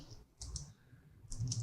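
Code is typed on a computer keyboard as a few soft key clicks in two brief clusters. The keys sound faint and close, with no talking.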